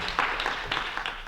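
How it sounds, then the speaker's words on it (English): Audience applause welcoming a speaker onto the stage at an evening math teachers' event, a soft patter of clapping that swells in a few uneven surges at moderate volume. "Let's give a warm round of applause to Bill"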